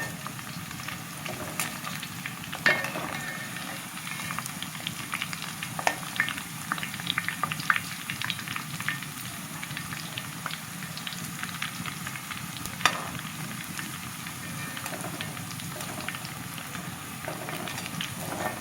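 Garlic and curry leaves fry in oil, giving a continuous, even sizzle with soft bubbling and a few sharper crackles, close and steady throughout with no one talking.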